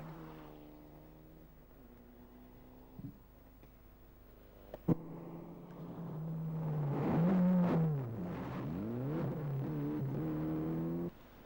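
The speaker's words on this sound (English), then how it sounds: "Mitsubishi Galant of Marty Rostenberg" A Mitsubishi Galant rally car engine at a 1996 New Zealand rally idles with a rough burble, blips once, then revs hard and climbs through the gears, loud and close.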